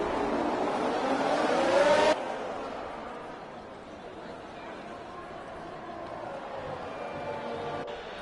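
Formula C race cars in an esports racing video game, heard during the formation lap: a loud, continuous engine drone that cuts off abruptly after about two seconds, then a fainter engine hum that carries on steadily.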